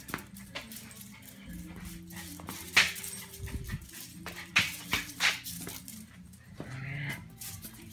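A dog whimpers and yips in short, close bursts, with scattered clatter and movement noises in between.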